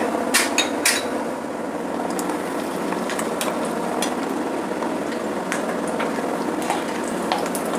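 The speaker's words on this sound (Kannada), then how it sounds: "ಇವಾಗ ಕಡಲೆಕಾಯಿ ಬೀಜ ಎಣ್ಣೆಲಿ ಕರ್ಕೊಳ್ತೀನಿ" Peanuts fry in hot oil over a medium flame, giving a steady, close sizzling hiss throughout, with a few sharp clinks from a utensil against the pan.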